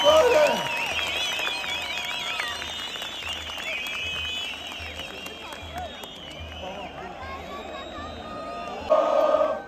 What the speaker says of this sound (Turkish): Hep birlikte alkışlayalım şampiyon takımın şampiyon oyuncularını.